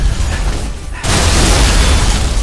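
A grenade explosion in Halo Reach hits about a second in as a sudden loud burst over an already noisy rumble, then a dense roar sustains afterward.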